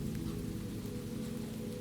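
Steady rain falls in a dense, even wash of sound, continuous and close, with no pauses or other noises.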